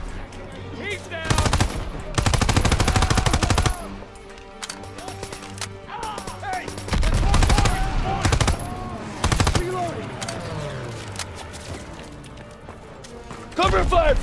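Bursts of Call of Duty WWII gunfire, with repeated rapid machine-gun volleys and scattered single shots in loud clusters, under in-game soldiers' voices shouting.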